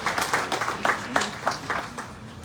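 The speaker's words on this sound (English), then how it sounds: "Give her another round of applause." Audience applause at the commissioning ceremony for the Adventure Pump Station in East Berbice, Guyana: a crowd clapping in a steady run of sharp, fairly close claps for a couple of seconds.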